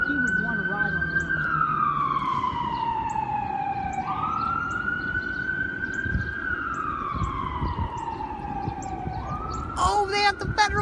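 A fire truck responding with a loud rising and falling mechanical Federal Q siren wail, slow sweeping cycles over street noise, with a bystander talking and a short horn burst at the end.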